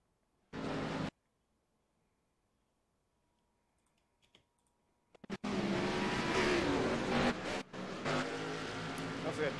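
Race cars roar around Talladega in the iRacing video game, a loud dense engine and tire rush that bursts in after a brief blast and near silence, with a short dip partway through.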